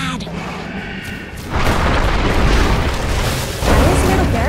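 Loud, booming explosions and crumbling impacts as barracks are destroyed in the video game Dota 2, with heavy bursts swelling in separate waves.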